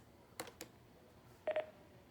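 An office desk phone's speed-dial button is pressed, giving a few quiet clicks followed by a short double burst of dialing tones, faint and close, with no voices.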